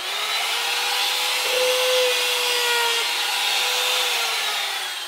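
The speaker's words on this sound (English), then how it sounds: "I've got a chamfering bit in here." A router fitted with a chamfering bit cuts a wooden edge for sheer blocking on a Catalina Wherry boat build, a loud, sustained high whine with a grinding cutting tone that rises midway and holds for several seconds.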